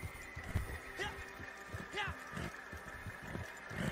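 Horse hooves in Red Dead Redemption 2 on a horse moving at a slow crawl, soft steady clip-clops in a loose rhythm with snorting and faint whinny sounds, set under a low ambient hum.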